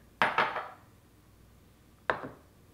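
Chocolate chips poured into a bowl, two quick rattling clatters of small hard pieces landing close together, a pause, then one more rattling pour, crisp and close in a quiet room.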